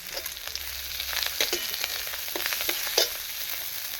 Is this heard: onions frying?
yes